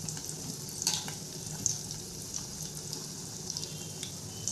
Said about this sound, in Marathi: हे लॉलीपॉप व्यवस्थित मध्यम आचेवरती तळून घेणार आहोत